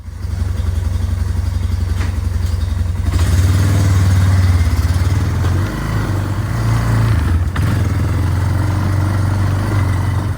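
A 2001 Yamaha BearTracker 250 ATV engine running steadily and loud, with revs rising and falling as gears are shifted after a tune-up, some mechanical clatter throughout.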